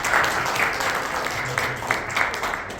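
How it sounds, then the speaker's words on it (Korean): Korean church congregation applauds during a worship service, a dense, moderately loud wash of clapping from many hands with voices mixed in. "우리 권사님 위해서 한번 박수."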